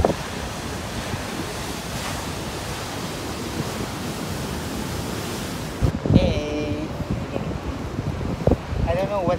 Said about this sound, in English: taking photos and videos of the ocean waves crashing on the rocks.